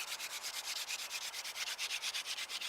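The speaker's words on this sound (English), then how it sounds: "put your hands on each side of the spindle and move it back and forth, pushing down really hard and going as fast as you can" Rapid back-and-forth friction of a wooden hand-drill spindle twirled between the palms while pressed hard into a board, a steady rhythmic rubbing swish with regular strokes, close and alone.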